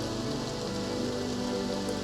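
Steady rain falls on a surface in a constant, even hiss with dense pattering drops, close and unbroken, with no voices or other sounds.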